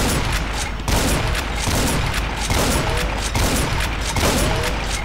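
Loud rapid gunfire from a magazine-fed weapon in the Project Brutality mod for Doom, a continuous stream of shots with short gaps between bursts, close and alone without speech.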